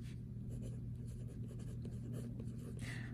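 A pen writes notes for an algebra math problem, a faint, steady scratching close by against a low background hum.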